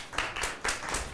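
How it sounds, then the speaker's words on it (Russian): An audience applauds speakers at the close of a round of a political debate contest, with a short burst of clapping from a modest crowd, rising and falling in two waves, fairly near. "проводим наших спикеров аплодисментами в зал"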